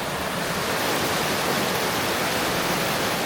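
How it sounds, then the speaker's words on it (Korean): Mountain stream water rushing along a forest valley on a morning trail in the Japanese Northern Alps near Kamikochi, a dense, steady, full-bodied roar of flowing water, close and loud with no pauses. "아침 햇살을 받은 물소리가 청명하게 들립니다."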